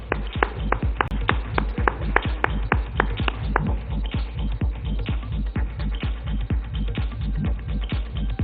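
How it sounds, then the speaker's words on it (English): Audience applause at an award ceremony for a team collecting its award: a loud, steady run of many sharp claps, denser at first and then thinning into a looser, rapid patter that carries on throughout. "A big round of applause, ladies and gentlemen."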